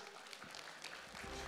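An audience at a campus event in Indonesia claps in applause, a faint, brief patter of hands under some background murmur.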